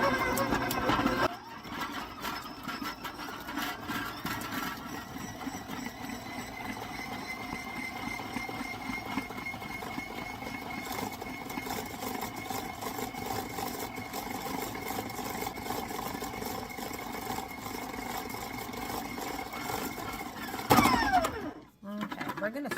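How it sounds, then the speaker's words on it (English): An electric mixer whips cream cheese frosting, its steady motor whir running for about twenty seconds before it cuts off near the end. "we're going to get this all whipped together"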